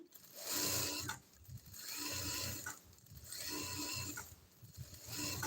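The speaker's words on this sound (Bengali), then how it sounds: "এখানে আমি একটা টপ সিলাই দিয়ে দিচ্ছি" A sewing machine top-stitches a kameez in three or four bursts of steady mechanical whirring, each lasting about a second and separated by short pauses, close and fairly quiet, with no voices.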